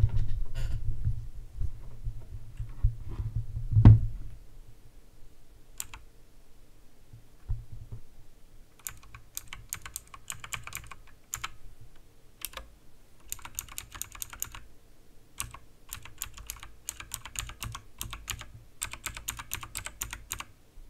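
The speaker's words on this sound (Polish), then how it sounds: "Fajny dźwięk mechanicznej klawiatury." A mechanical keyboard clacks in quick irregular bursts of keystrokes, close and crisp, following a quieter opening with a single thump and low hum.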